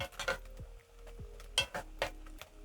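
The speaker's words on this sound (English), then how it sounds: "give my pumpkin leaves a stir" A spoon scrapes and clinks against a pot of boiling pumpkin leaves in a few separate strokes, fairly quiet, with a faint bubbling hum underneath.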